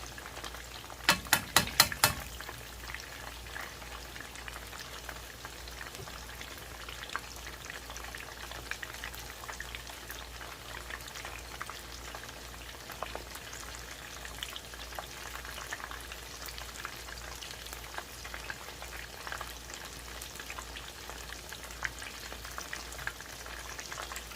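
Chicken tenders frying in a pot of oil make a soft, steady crackle and sizzle throughout, with a few quick clinks near the start and otherwise an even, fairly quiet bubbling.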